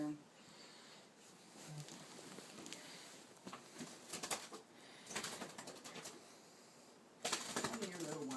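A pigeon or dove loose inside a house at dawn flutters its wings in short bursts and gives soft coos, faint and close, amid quiet room noise and occasional human voices.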